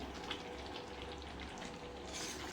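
Chicken sizzles and crackles quietly in hot oil, a soft, continuous fizzing with small pops, close but low in level.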